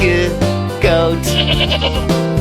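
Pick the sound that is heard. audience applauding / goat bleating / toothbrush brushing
goat bleating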